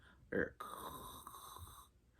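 A voice imitates a crackling, snoring breath in the throat of someone with heart failure, a short loud snort followed by a sustained rasping exhale, close and quiet overall.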